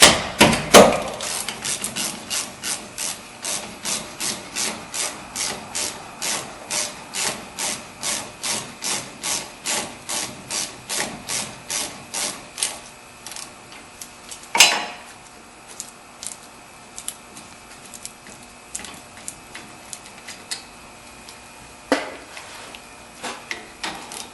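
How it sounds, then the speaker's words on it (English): Mounting bolts being loosened on a brake caliper of a 2007-2017 Chevy Silverado, heard as a long run of steady, rapid clicking ratchet-like strokes that slow and break off, with a louder clank or two near the end, no talk. "you're going to remove the two caliper mounting bolts, and you just remove them"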